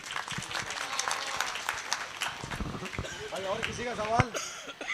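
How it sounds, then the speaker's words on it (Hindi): An audience at a parents' and teachers' meeting claps in a loose, uneven burst, mixed with voices talking over the applause. "बजाओ ताली भाई के लिए।"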